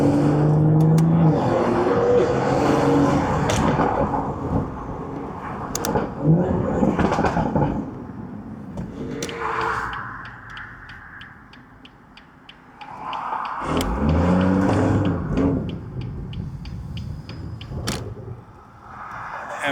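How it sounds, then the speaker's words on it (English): Stage 2 turbocharged BMW 440i pulling hard while chasing a tuned F80 M3 Competition, with loud engine roar and rising revs, brief lulls between pulls and a few knocks and clicks inside the cabin. "Turbo's going crazy right now."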